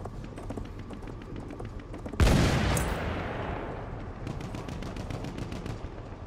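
Battlefield 1 battle with distant machine gun fire ticking in a fast steady rhythm, interrupted by one loud booming blast whose rumble slowly fades before the rattling resumes.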